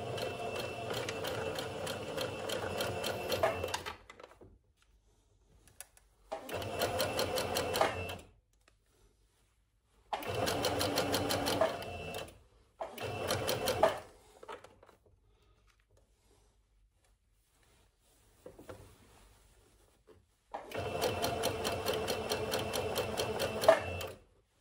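Sewing machine stitching forward and back along the front crotch seam of a jumpsuit, running in several steady bursts of varying length separated by silent pauses, close and clear.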